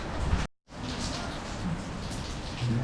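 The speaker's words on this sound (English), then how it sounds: "Okay, we've got hailstones now." Hail and heavy rain pour down on a street with water running along it, a dense steady patter that briefly cuts out and then resumes, close and fairly loud.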